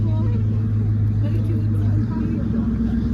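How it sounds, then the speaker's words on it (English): Dodge Viper TA sports car at an outdoor cars and coffee meet, a steady low engine rumble close by that drops in pitch partway through, with crowd chatter in the background. "Got a nice Viper TA."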